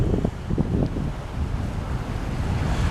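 Atlantic Ocean surf and wind at a high seaside overlook above Tazacorte on La Palma, a steady broad rushing roar with gusty wind buffeting the microphone and soft wave swells rising and falling throughout.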